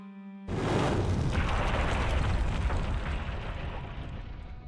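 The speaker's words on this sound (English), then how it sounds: "My head was being knocked around by some deafening explosion." Deafening explosion in the video game Cafe Enchante: after a short steady tone cuts off, a massive boom erupts into a broad, rumbling roar that slowly tails off over several seconds.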